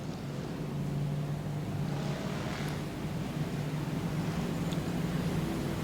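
Crown Victoria race cars on a dirt oval at Auburndale make a steady, distant engine drone that holds through the whole stretch, a broad rumble with no talk over it.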